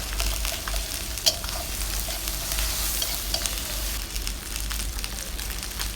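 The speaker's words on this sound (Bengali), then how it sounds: "একসাথে দিয়ে ভালো করে নেড়ে চেড়ে নিচ্ছি" Chopped onion and ginger-garlic paste fry with spices in a pan, giving a steady close sizzle broken by scraping stirring strokes, with no talking.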